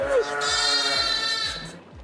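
Loud, dense bleating from a packed barn of about 65 pregnant sheep waiting for their breakfast feed, many voices overlapping continuously and close by.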